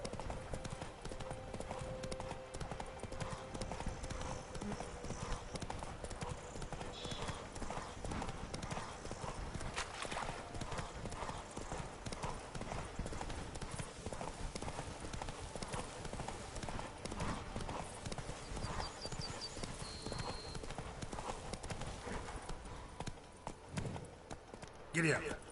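Horse hooves clip-clop steadily through Witcher 3: Wild Hunt, a continuous trotting rhythm over game ambience and music, with a voice speaking at times.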